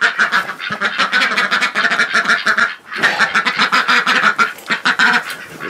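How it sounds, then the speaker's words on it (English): Loud, dense quacking from a flock of ducks close by, nearly continuous with one brief lull partway through. "The ducks don't want to go to bed."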